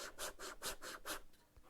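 A sanding block rubs back and forth across a worn running-shoe heel in about six quick, even strokes, each a close, raspy scratch, fading off toward the end.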